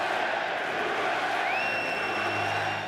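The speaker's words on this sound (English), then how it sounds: "the crowd started to chant USA." A huge stadium crowd at Yankee Stadium roars in a steady, dense wash of voices for the whole stretch, with a thin whistle-like tone rising midway through.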